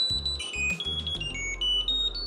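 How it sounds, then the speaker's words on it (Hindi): A Jio Tag Bluetooth tracker sounds a welcome tune right after pairing: a quick run of loud, electronic beeps and tonal notes in a bouncing pattern, heard close and alone over a low hum. "एक काइंड ऑफ एक वेलकम ट्यून आपको मिल गई"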